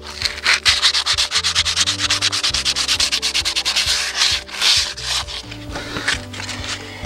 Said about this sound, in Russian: Значит, берем шкурочку помельче